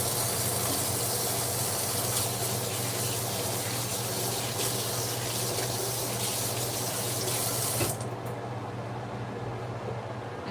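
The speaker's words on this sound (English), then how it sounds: "I better wash my hands before I start crying some more" A kitchen tap runs in a steady, loud hiss of water while hands are washed, then cuts off abruptly near the end, leaving a quieter background.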